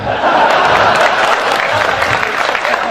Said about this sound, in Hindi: संपत जी आप भी ताली बजाओ